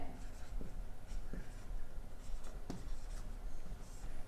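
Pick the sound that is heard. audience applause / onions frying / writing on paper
writing on paper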